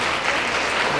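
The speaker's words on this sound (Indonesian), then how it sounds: "Tepuk tangan dulu, tepuk tangan dulu." A crowd at a Buginese-language religious sermon claps steadily in a dense, continuous wash of applause, fairly loud and close, with no pauses across the short burst.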